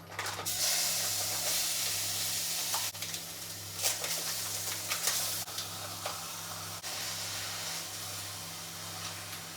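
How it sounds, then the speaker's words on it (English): Ground beef sizzles and crackles in a hot pan, a steady bright hiss with occasional louder pops and stirring bursts, heard alone. "It's just such a sizzle sound is like one of my favorites."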